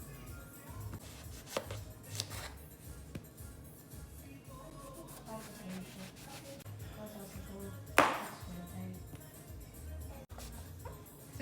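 Breadfruit is sliced on a mandolin slicer in a home kitchen, giving faint, irregular close-up scrapes and clicks, with one sharper knock partway through.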